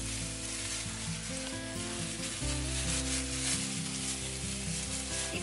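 Lean ground pork frying in a pan with browned garlic, crackling in a steady close sizzle with some stirring and scraping, and no voices.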